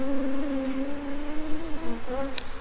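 Honeybees buzz near an orchard apiary hive during a queen cell check, a close steady drone from one or more bees that wavers in pitch and briefly breaks up near the end.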